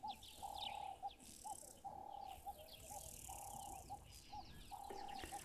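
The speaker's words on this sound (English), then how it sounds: "Like this Egyptian goose." Egyptian goose giving a series of repeated honking calls in a bush setting, a steady rhythm of mid-pitched notes with short gaps, moderately near, alongside other birds and insects.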